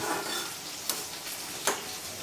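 Pearl spot fish frying in a pan, with a steady close sizzle and a couple of brief sharp clicks as it is moved.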